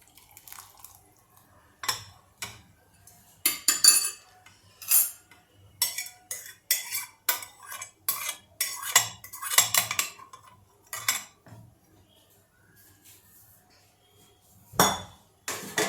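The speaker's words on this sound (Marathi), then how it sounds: "हा रस्सा आपण आता एका बोलमध्ये काढून घेऊया" Khaman dhokla broth is ladled from a pot into a bowl: scattered metallic clinks and taps of a spoon against steel, with occasional faint drips and quiet pauses between strokes.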